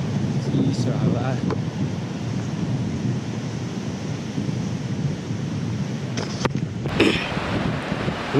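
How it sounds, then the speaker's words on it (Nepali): Cold wind blows across a mountain trail in the Nepal Himalaya, a loud continuous rumbling gust buffeting the microphone, with brief voices and knocks. "चिसो हावा"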